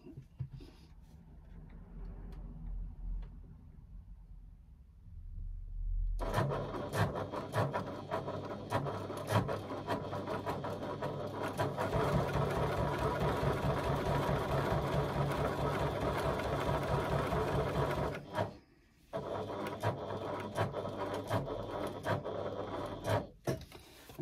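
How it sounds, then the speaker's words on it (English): A sewing machine stitches a pocket seam, starting after a quiet stretch and then running in a steady, continuous whirring rattle that pauses briefly near the end before resuming. "you're going to stitch down the side along the bottom and back up the other side using 1/8 of an inch seam allowance"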